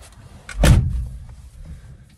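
A single heavy thump of the car door on a 1963 AMC Rambler, close and solid, followed by quiet rustling and small interior knocks.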